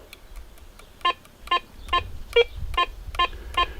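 A $50 Wish metal detector sounds its iron tone over a screw, seven short, evenly spaced beeps at a steady pulse, one pitched lower than the rest, above faint low rumble.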